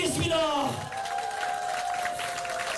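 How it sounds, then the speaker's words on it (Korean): At a political talk concert in Chungbuk, the crowd claps and cheers in a lively round of applause beneath a loud, drawn-out voice calling over the room. "여러분 뜨거운 박수 힘차게 부탁드리겠습니다."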